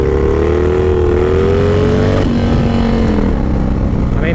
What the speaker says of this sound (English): I'm gonna do a little second gear wheelie action here